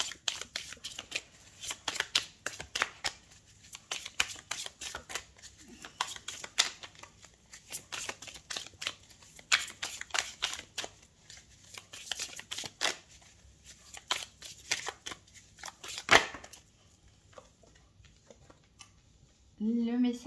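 Tarot cards being shuffled by hand: a long run of soft, rapid riffling and flicking bursts, close and fairly quiet, with brief pauses between runs and a faint low voice near the end.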